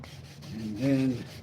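Sandpaper of 400 grit rubbed over a wooden box lid, a soft, close, steady scraping that strengthens and brightens toward the end of the stroke.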